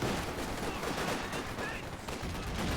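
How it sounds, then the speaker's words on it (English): A captured MG34 machine gun laying down suppression fire in Company of Heroes 2, with rapid gunfire blending into dense battle noise, moderately loud and continuous throughout. "Suppression coming out by the captured MG34."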